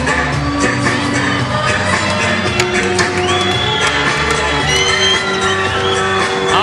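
A packed fight-night arena crowd cheers and shouts for boxer Holly Holm, a loud continuous roar with whoops rising over it and a steady tone sustained beneath.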